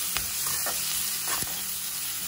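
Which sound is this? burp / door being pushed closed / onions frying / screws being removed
onions frying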